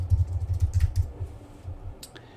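Close keystrokes on a computer keyboard come in a quick burst of about a dozen taps, then slow to a few scattered presses with a sharper click near the end, with no talking.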